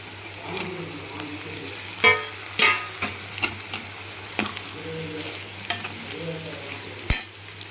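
Ginger-garlic paste and dry fish fry and sizzle in a pan for dry fish curry, with a steady crackle broken by several sharp scrapes and clinks of a spoon stirring against the metal, close and moderately loud.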